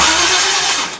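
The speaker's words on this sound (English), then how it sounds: "We'll see if it cranks now." A barn-find tank engine, idle in a shed for four years, roars loudly in a dense, continuous rumble for about a second, close and alone.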